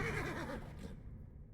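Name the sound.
horse neighing in video game Age of Empires IV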